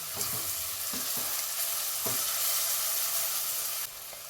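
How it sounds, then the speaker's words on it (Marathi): Chopped tomato and onion sizzle steadily in a hot pan, a constant close frying hiss broken by a few soft scrapes of a spoon stirring, with no talking. "एक टोमॅटो बारीक चिरून घेतलेला. टोमॅटो सॉफ्ट होईपर्यंत परतून घेऊया."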